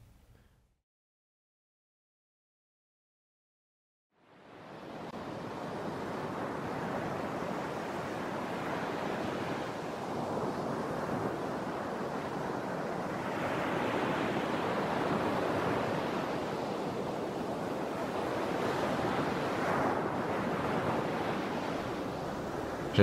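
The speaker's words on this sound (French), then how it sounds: "J'aime trop le bruit de la mer." Steady roar of sea waves washing onto a shore, rising after a few seconds of silence and holding loud and continuous with gentle swells, no voices.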